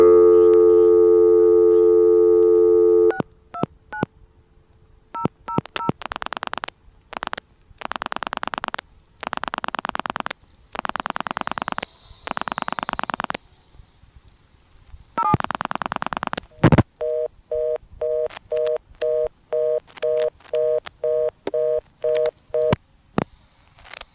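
Calls are dialed through an ITT Pentaconta crossbar switch in Asheboro, North Carolina, in 1986. A steady dial tone cuts off and gives way to a run of evenly spaced dialing tone bursts, followed by a repeating two-tone signal and short clicks, all moderately loud with no talking.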